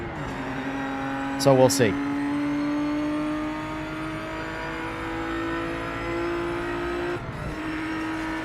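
A Ford GT40 race car in the Project Motor Racing video game holds a steady, loud engine drone with a slowly rising tone and a brief squeal early on, while someone talks over it.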